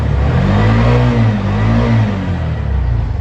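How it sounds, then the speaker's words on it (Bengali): A used CNG auto-rickshaw engine runs close by, giving a loud, continuous mid-pitched drone with a slight rise and fall in revs and no speech over it. "গাড়িটা দেখেন কত সুন্দর ইঞ্জিনের সাউন্ড"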